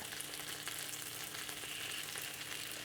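Wontons pan-frying until crispy and golden, a continuous bright sizzle and crackle of hot oil that holds steady and close throughout, with no voices.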